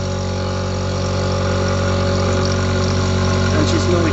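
Aluminium being cut by a machine fed at about 18 millimetres per minute with lubricant, a steady droning motor hum with strong even harmonics running continuously, loud and close, with faint scraping near the end.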